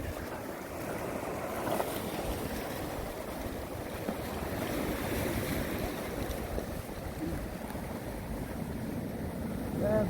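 Waves washing against a rocky coast at Yeonggeumjeong under strong wind, a steady broad rush with wind buffeting the microphone throughout, fairly close and continuous.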